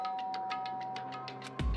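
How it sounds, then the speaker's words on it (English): A doorbell chime in the Danganronpa: Trigger Happy Havoc video game, a steady electronic tone with a rapid run of repeated ringing pulses, ending in a brief low thump. "Byakuya stood in front of her door, not making a sound, and pressed the doorbell"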